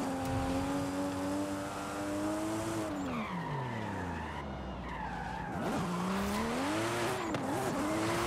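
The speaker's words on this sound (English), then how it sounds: "this gear ratio is set for massive amounts of wheel spin" Aasbo's FD Supra in Forza Horizon 5, on full simulation settings and geared for heavy wheelspin, howls up and down through revs while tires squeal and skid continuously as it tears along a mountain road.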